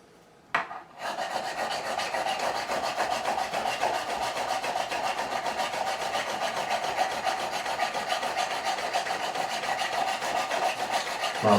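A file works the end of a replaced fret on a Fender Telecaster neck, making a continuous close, raspy rubbing that stays even throughout after a brief knock at the start, with no voices.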